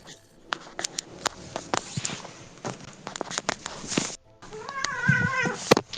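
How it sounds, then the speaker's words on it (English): A house cat meows a few times near the end during a board game night, following a stretch of tapping, shuffling and footstep-like knocks indoors. "Actually, I'd like to hear the cat maybe more."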